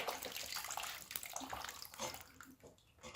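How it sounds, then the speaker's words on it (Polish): Water gushes steadily from a tap into an aquarium, a continuous splashing hiss with no voices. "Leje się woda, niech się leje woda."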